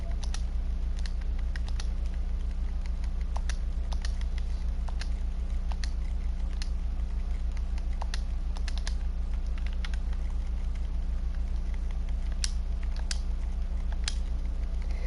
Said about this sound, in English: you guys can actually hear the clicking of my controller